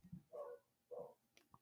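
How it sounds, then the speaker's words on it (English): A dog barks twice from downstairs, distant and faint, with soft yips following in an otherwise quiet home. "That's my daughter's doggy barking down there."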